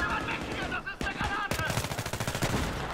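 Automatic-weapon fire in the shooter game Battlefield 3 bursts in as rapid repeated shots, loud and close, following a brief stretch of player chatter.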